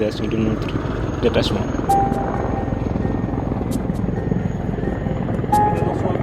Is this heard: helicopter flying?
yes